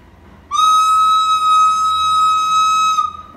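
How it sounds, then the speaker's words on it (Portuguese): A single steady, high whistle-like siren tone sounds loud and close for about two and a half seconds, then cuts off. "Soltei minha sirene."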